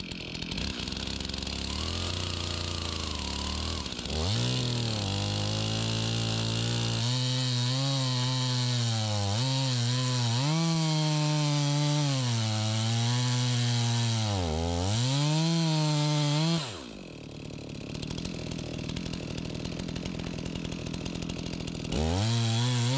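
A chainsaw bucks felled logs to length, its engine revving up and bogging down through repeated cuts in steady, close, loud bursts before dropping to a lower idle near the end.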